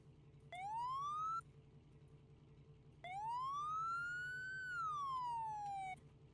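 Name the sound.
sirens in video game Drive Beyond Horizons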